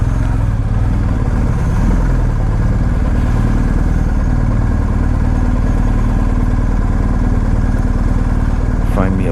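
A BMW R1250GSA motorcycle engine idles at low revs, a loud, steady, close rumble with a light mechanical clatter running unbroken throughout.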